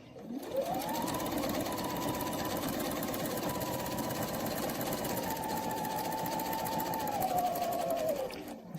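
A sewing machine stitches steadily in one unbroken run for about eight seconds, spinning up at the start and winding down at the end as it follows a full rotation around a quilting template, loud and close with no talk.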